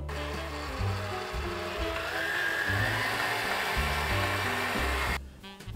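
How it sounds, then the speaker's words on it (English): A food processor creams butter and sugar for Christmas baking, its motor whirring loud and close in uneven bursts that rise and drop before cutting off. "This is too hard, so I'm just gonna use the food processor."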